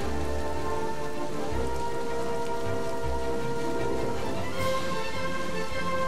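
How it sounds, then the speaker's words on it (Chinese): Rain falls in the Switch video game Xenoblade Chronicles 2, a dense, even patter on surfaces that lasts throughout, layered over soft sustained game music and no speech. "还有下雨。"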